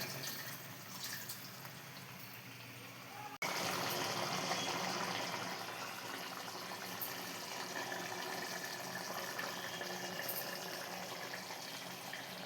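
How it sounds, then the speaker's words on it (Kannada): About 200 ml of water poured into a cooking pot of chicken for biryani: a steady, close splashing stream that begins abruptly and runs on with no talk. "200 ml ಅಷ್ಟು ನೀರು ಹಾಕ್ಕೊಳ್ಳಿ."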